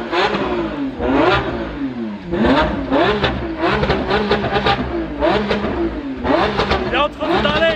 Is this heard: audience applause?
no